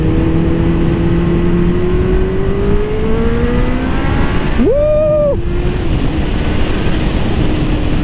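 A Honda Hornet 600 motorcycle engine, making 102 horsepower at 12,000 rpm, drones loudly and steadily, then climbs in a sharp rev that holds briefly before dropping back to a steady pull.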